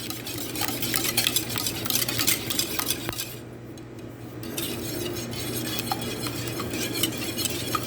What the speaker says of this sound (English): So I'm just going to bust up these yolks really good.